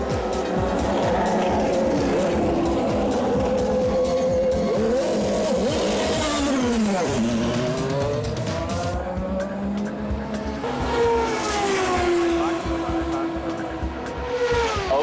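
A race car lapping a track, engine revving loudly with pitch rising and falling through gear changes, dropping sharply into corners with brief tire squeal, continuous and close.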